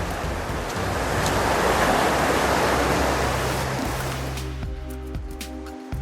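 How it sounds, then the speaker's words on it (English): Rushing water of Pretty Hollow Creek pours steadily nearby at a trail crossing, a broad roar that swells then eases off toward the end. "It looks like I have a water crossing coming up"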